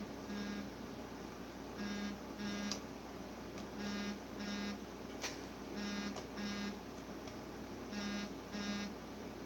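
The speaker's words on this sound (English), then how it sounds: "I do believe my notification just went off." A repeating electronic notification alert beeps in regular paired bursts, steady and clear over a constant background hum, with no talking.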